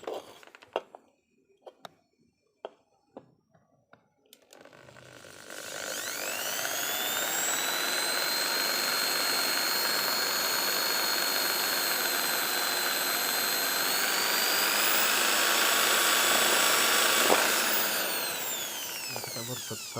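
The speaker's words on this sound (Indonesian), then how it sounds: "kita bor satu-satu" A drill bores holes one after another into a crossed hole pattern. A few light knocks come first, then a loud, steady, high whine runs on without a break, close by.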